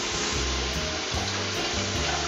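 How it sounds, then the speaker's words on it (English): Water sprinkled into a hot wok of frying pea shoots, producing a dense, loud, continuous hiss of sizzle and steam at close range. "What I'd like to do at this point is just give it a sprinkle of water."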